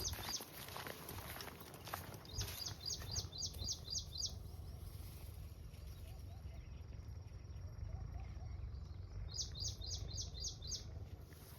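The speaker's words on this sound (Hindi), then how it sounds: "इधर से आवाज़ आ रही है पक्षियों की" Small birds chirp in quick repeated bursts beside the Narmada river, two clear runs of rapid tweets over a steady outdoor rumble and faint footsteps, with no talking.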